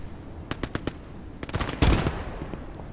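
Infantry gunfire in the WWII strategy video game Gates of Hell Ostfront: a quick string of sharp shots, then a denser burst of louder overlapping gunfire and a heavy thud, fading into battle ambience.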